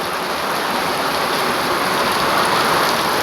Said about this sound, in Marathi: तसंच पाऊस पडतोय